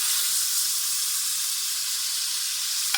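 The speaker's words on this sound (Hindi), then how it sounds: "लहसुन अदरक और दही के साथ मैं इसको तकरीबन 6 से 7 मिनट तक भूनूंगी" Minced keema fried in a pan with garlic, ginger and yogurt gives a steady, even sizzle from start to finish with no one speaking. A small tap comes near the end.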